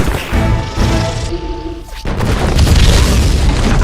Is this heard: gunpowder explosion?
yes